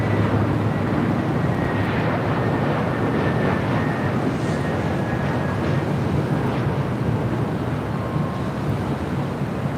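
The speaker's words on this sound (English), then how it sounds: "This is Delta Airlines 756 coming in from Minneapolis on an A321." Delta Airlines Airbus A321 arriving at LAX from Minneapolis, a steady broadband jet roar with wind noise that holds at an even, fairly loud level throughout, with no voices.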